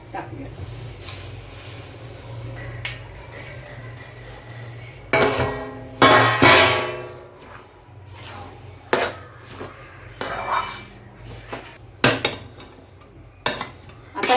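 Sesame ladoo mixture with cardamom powder tipped into a hot pan and stirred, producing clattering spoon and metal scrapes in irregular bursts against a quiet low hum, with a voice talking in between.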